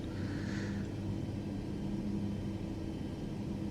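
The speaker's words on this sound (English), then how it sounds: "right engine is now on." A simulated Boeing 737 MAX right engine runs at idle in Microsoft Flight Simulator 2024, a steady low rumble and drone that holds evenly throughout with no talk.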